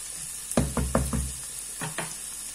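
Bell pepper hits a hot pan of softened onion for a shrimp soup, giving a quick run of four close thumps, then two more, over a thin, steady sizzle.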